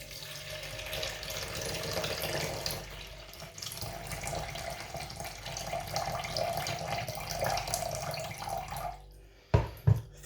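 Water poured from a jug into a pot of foraged hawthorn berries for ketchup, a steady close splashing stream for about nine seconds that cuts off, followed by a couple of sharp knocks.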